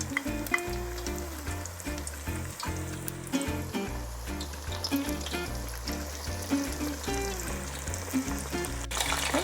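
A chicken fillet fries in a pan over medium heat, giving a steady, lively sizzle throughout, mixed with tonal music playing alongside.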